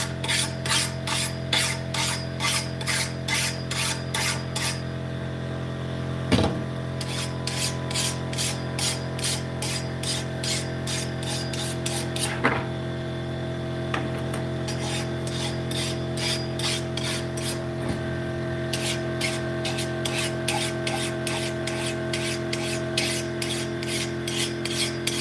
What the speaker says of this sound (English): you can use your raker file